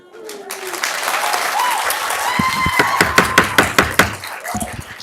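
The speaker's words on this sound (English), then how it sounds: "we've asked multiple times to keep the applause down" Applause breaks out in city council chambers during a public meeting about a hate crime at a movie theater, starting after a voice and swelling into loud, uneven clapping with a few sharp, close claps toward the end.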